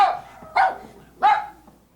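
Dog barking during a high school stage production of Mary Poppins, two sharp, fairly close barks about half a second apart, with a small yip after each, in a quiet hall.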